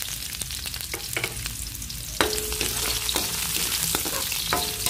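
Onions fry in a pan for a green bean and chicken liver dish, giving a steady close sizzle that grows louder partway through, broken by a few sharp utensil clanks and stirring scrapes.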